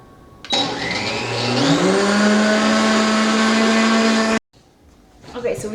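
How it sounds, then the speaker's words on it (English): An Omni blender motor kicks on while blending an apple, revs up to a loud, high whine, runs steadily for about four seconds, then cuts off abruptly, leaving quieter handling noise. "we put the apple in and blended it for another 60 seconds in the Omni blender"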